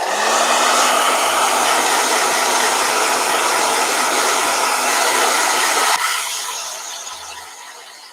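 A blow dryer runs loudly and steadily with a broad airy roar for about six seconds, then cuts off and winds down into a fading hum.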